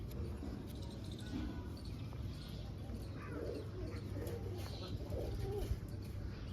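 Pigeons cooing softly in a loft, low repeated coos under steady background noise, faint and distant.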